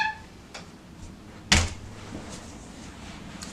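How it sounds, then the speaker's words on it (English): A door in a home bedroom shuts with one brief, fairly close thump and rattle in the middle, with quiet room noise and small faint knocks before and after. "let me close my door really quickly"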